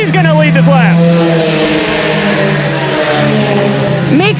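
Eco stock race cars roaring around a track while battling for the lead, engines revving and swelling with rising and falling pitch, loud and continuous under a race announcer's commentary.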